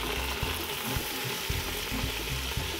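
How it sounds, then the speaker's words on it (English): Vegetables fry on high heat in olive oil in a pan, making a loud, dense, continuous sizzle up close with faint periodic knocks of stirring and no voice. "then we're going to dump all the vegetables in there at once and just kind of let them simmer in there for about 5 minutes."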